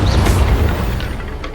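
A deep, sustained boom rolls out from a blasting spell explosion in the Hogwarts Legacy video game, a loud low rumble that slowly fades without a sharp attack.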